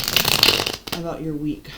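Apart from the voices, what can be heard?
shuffling a tarot card deck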